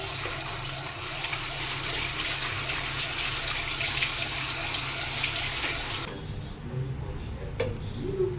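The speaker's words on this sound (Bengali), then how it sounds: "ওলটা ধুচ্ছি এখন।" Tap water runs steadily into a sink as cut elephant foot yam is rinsed, a loud continuous splashing wash that cuts off abruptly near the end, leaving faint kitchen clatter.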